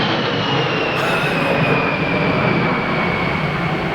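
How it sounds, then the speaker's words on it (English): Jet airplanes passing overhead: a loud, continuous broadband roar that fills the whole clip without a break, with a faint high whine drifting slowly through it. "How many more jets are coming by?"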